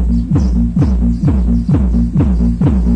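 Four 1200-watt JH1512 speakers in a McV box driven in mono by an Ace CA5 amplifier, pounding out a heavy, steady bass beat of deep throbbing thumps roughly every half second, loud and close with no talking.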